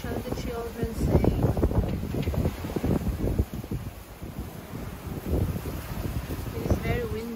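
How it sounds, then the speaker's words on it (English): Strong gusty wind from Storm Eunice in the UK batters the microphone with heavy, continuous low rumble and buffeting, surging and easing throughout. "It is very windy."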